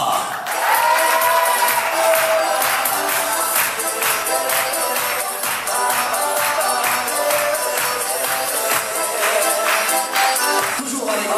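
A crowd of holidaymakers at a family resort applauds and cheers loudly and steadily, with whoops over dense clapping that continues throughout.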